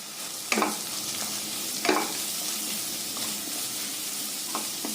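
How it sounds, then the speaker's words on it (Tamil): Vegetables for masala bonda sautéed in a pan with salt and garam masala: a steady close sizzle broken by a few scraping stirs of the spatula, no voices. "கொஞ்சமா கரம் மசாலா சேர்த்து வதக்கிக்கோங்க"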